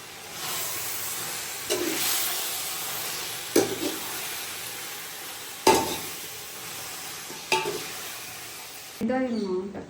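Ingredients for a mutton biryani sauté in a hot pan with a continuous sizzle, broken by four louder scraping stirs of a spoon, ending with a brief clattering bump.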